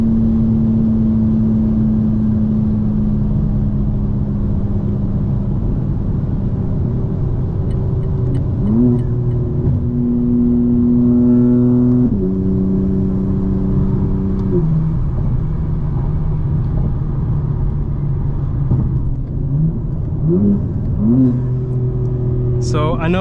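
A 2024 BMW M4 Competition xDrive engine drones inside the cabin while driving, a steady low rumble that rises and falls with gear changes and brief revving, with talking heard over it.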